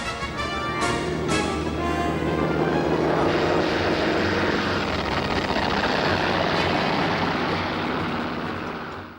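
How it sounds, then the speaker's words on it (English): Propeller aircraft launched from the Japanese carrier Hiryu roar loudly and steadily throughout, a dense engine drone with no talk over it. "Aircraft were now launched from the surviving carrier,"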